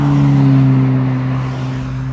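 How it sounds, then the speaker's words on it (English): An Aston Martin DBS 770 Ultimate drives close by on a Cape Town road, its engine a steady, loud droning hum that eases off slightly toward the end. "The Aston Martin DBS 770 Ultimate."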